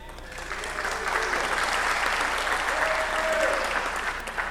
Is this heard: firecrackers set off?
no